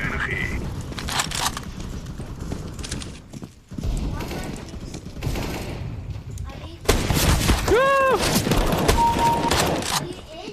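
Gunfire in the video game Counter-Strike: Global Offensive crackles in loud bursts amid game sounds, with players talking over the shots.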